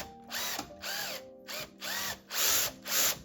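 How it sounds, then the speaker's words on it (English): A power tool removes bolts on a 1926 B14 pre-war race car in a series of short, close whirring bursts, each revving up and cutting off, with brief pauses between them. "for sure we have to take these 4 bolts off, so let's do that"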